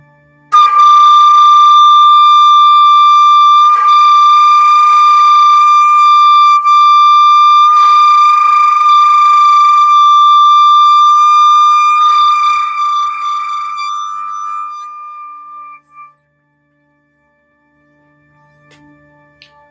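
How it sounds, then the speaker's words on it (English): A flute holding one steady high note with the flutter tongue switched on and off in pulses, loud and close, alone, then fading out to silence near the end. "Let's do a flutter tongue just for fun on that note."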